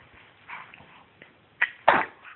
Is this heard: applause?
no